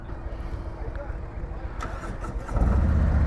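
A 2022 Harley-Davidson Road King S motorcycle engine rumbles low beneath a man's speech, then swells into a louder, deeper throbbing idle near the end.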